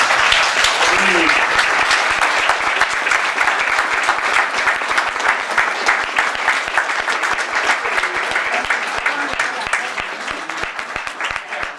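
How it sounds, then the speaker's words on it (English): An audience at a California State Senate award recognition claps steadily and loudly for an honoree, a sustained dense patter of hands that barely fades over nearly twelve seconds, with a few faint voices underneath. "give her, all of you, give her a nice round of applause"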